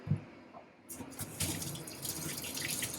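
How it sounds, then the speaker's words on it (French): Lukewarm water runs from a kitchen tap into a sink while a chicken dish is prepared, a steady close splashing stream that starts after a brief quiet moment and continues evenly. "donc on fait couler l'eau légèrement tiède"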